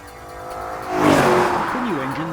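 A naturally aspirated, high-revving 4-litre V8 in a fourth-generation BMW M3 swells into a loud rev. Its pitch climbs and then wavers up and down, with a faint tire squeal and a voice speaking over it.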